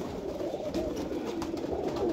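Low, overlapping cooing from a group of pigeons, among them white black-tipped birds offered for sale in Jhelum, rolls on steadily at close range with no talking.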